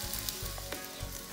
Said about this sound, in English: I'm gonna fry this a little bit to make a brown because this is already half cook.